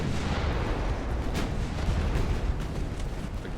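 Ammunition cooking off aboard a burning warship in the naval battle game Ultimate Admiral: Dreadnoughts, heard as a steady roar of rumbling blasts and crackling bursts with one sharper crack near the middle.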